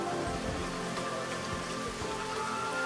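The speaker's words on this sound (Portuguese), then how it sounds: "agora mostrando lá o pé da serra já coberto pela chuva. Foi uma chuva forte e longa." Heavy, steady rain pours down at the foot of a mountain range, a dense continuous hiss with scattered drops pattering on nearby surfaces and no voices.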